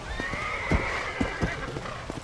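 Zombie horse in the undead-outbreak world of Red Dead Redemption's Undead Nightmare gives a long whinny, with galloping hoofbeats thudding at uneven intervals underneath, close and steady throughout.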